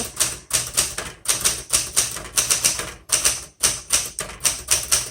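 Someone types on a 1967 Smith Corona Super Sterling manual typewriter. Crisp, close keystrokes clatter in quick, even bursts with short gaps between runs, and no one speaks.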